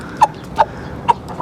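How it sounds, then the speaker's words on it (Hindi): A rooster in a backyard chicken coop gives three short, loud clucks, evenly spaced and close by, with quiet pauses between them. "ठीक लग रहे हो मुर्गा जी?"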